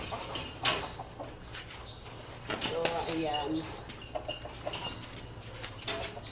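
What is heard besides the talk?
hungry chickens clucking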